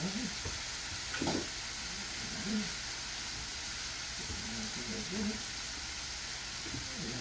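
Spaghetti sauce sizzling in a pan while being stirred, a steady crackling hiss with occasional scrapes and clinks of the utensil, and a voice speaking briefly over it.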